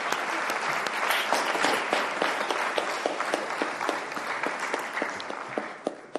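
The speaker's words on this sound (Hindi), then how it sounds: "तालियां बजा के स्वागत कीजिए" A crowd at a women's awareness campaign launch applauds steadily for several seconds, dense clapping that slowly thins toward the end.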